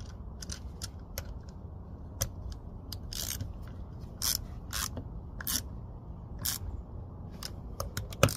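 Ratchet tightening nuts on the blower motor of a Pontiac G5 / Chevy Cobalt, a series of sharp clicking bursts in uneven groups over low background noise, close and fairly quiet.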